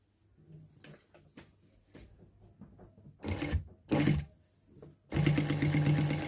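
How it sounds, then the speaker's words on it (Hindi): Sewing machine stitching a cushion cover made from an old shirt, with soft handling noises, then short rattling bursts and a final steady, loud stretch of rapid stitching, close by with no talking. "अब हम इस निशान के ऊपर कर लेते हैं सिलाई।"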